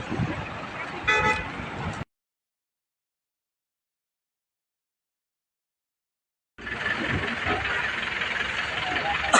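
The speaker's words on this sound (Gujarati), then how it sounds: "ગાડી ઉપડે છે હવે." A Bolero vehicle sets off on a road trip for the Junagadh Lili Parikrama. The engine rumbles and a brief horn toot sounds near the start, then a silent gap follows before steady road and engine noise resumes, with voices present.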